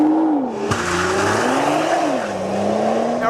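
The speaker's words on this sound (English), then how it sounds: "Now we're getting a little slip through first gear" A 2013 Nissan GT-R Black Edition launches hard, its engine note climbing and dipping as the tires briefly slip in first gear, revving continuously for a few seconds.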